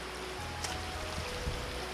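Waterfall on Lick Creek in Daniel Boone National Forest, a steady broadband rush of falling water heard from nearby, with no talking.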